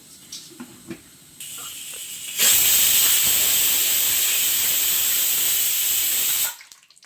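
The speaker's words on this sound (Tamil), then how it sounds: "சாம்பாருக்கு காய் வேக வச்சோம் இல்லையா, அதுவும் நல்ல விசில் வந்துடுச்சு." Pressure cooker cooking vegetables for sambar bursts into a loud, steady steam hiss and whistle lasting about four seconds, preceded by faint kitchen clatter and cutting off abruptly.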